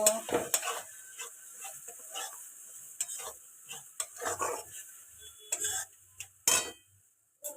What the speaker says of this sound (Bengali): এটা ভালো করে একটু নেড়ে নেবো